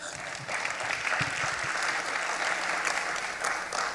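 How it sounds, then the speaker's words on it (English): Sustained applause from a church congregation fills the space, a steady dense wash of clapping with a faint voice or two underneath. "Somebody give him a hand clap."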